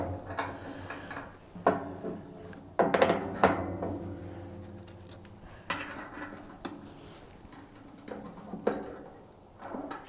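Metal axle sliding through a new bandsaw's rear wheel mount with washers and cotter pins, a series of close thunks, clanks and scraping knocks, irregular and sharp, with quieter shuffling between hits.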